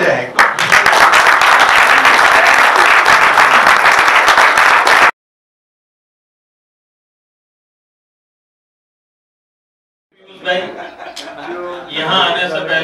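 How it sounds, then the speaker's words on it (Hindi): Audience at a workshop in Gujarat standing to applaud Piyush bhai, a loud, dense burst of clapping for about five seconds, then silence, followed by a few scattered claps and murmuring voices. "एक बार खड़े होके पीयूष भाई के लिए ताली बजाएं एक बार।"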